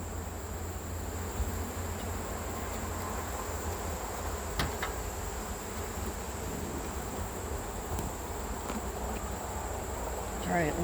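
Dense, steady buzzing of honey bees from a freshly opened backyard hive on a deck, a continuous close insect drone with no talking over it.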